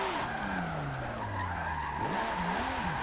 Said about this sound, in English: usually I like to drift the full course